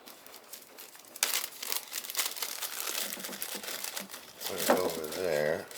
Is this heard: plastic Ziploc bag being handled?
yes